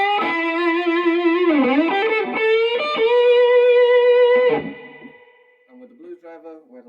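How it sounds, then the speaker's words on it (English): Thick, sustained electric guitar fuzz from a Big Muff pedal fed by a Blues Driver overdrive, bending held notes loud and close, then cutting off into a few quieter, softer picked notes near the end. "I have the blues driver before my big muff, so the big muff sounds like this."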